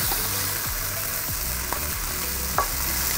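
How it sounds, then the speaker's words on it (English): Steady, close sizzle of chicken searing in a hot frying pan for a stir fry, a broad hiss with occasional soft clinks and scrapes of stirring. "now that I've got some sear sizzling going on"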